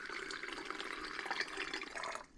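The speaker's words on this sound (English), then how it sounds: "I'm filling the bottle to about 2/3 to leave some room for air." Hot water pours steadily from a kettle into a rubber hot water bottle, a close, continuous gurgling fill that quickly tapers off at the end.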